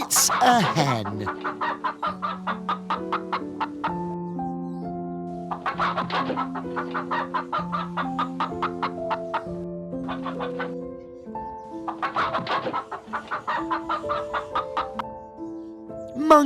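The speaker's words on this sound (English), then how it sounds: "Hen. It's a hen." A hen clucks in quick rhythmic runs of short, sharp clucks, close and clear, breaking into a few drawn-out cackles between the bursts.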